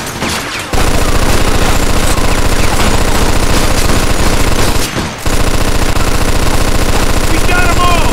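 Sustained, deafening machine gun fire in the Mafia 2 video game, a dense rapid stream of shots running almost the whole time, with one short break near the start and another around the middle.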